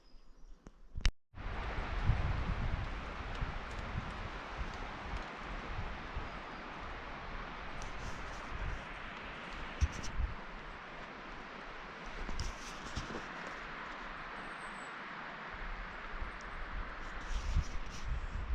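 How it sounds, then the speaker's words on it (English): Strong wind roars through a forest during a storm, a constant broadband rush with gusts swelling and easing, fairly distant and faint, with occasional knocks and a sharp crack near the start. "The storm is picking back up. It's getting really windy now."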